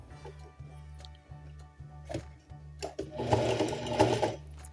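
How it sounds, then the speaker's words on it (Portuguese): A domestic sewing machine runs a zigzag stitch through cotton panties, giving a steady close-up rhythmic clatter that grows louder and busier over the last second and a half. "Primeiro o zigue-zague, depois eu volto com uma costura reta para ficar bem firme a minha peça"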